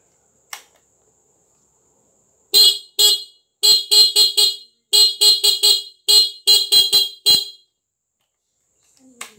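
A car horn wired with a passing light honks in a rhythmic series of short beeps, about a dozen blasts in quick clusters, loud and close.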